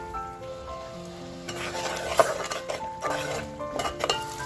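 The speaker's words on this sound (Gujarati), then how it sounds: "એની અંદર આપણે ટામેટાની જે પેસ્ટ બનાવી છે તે નાખી દઈશું અને એને બી આપણે સરસ રીતે શેકાવા દેવાની છે" Oil sizzles steadily as a thick tomato paste fries for chole, with stirring scrapes and a few light clinks of a utensil against the pan.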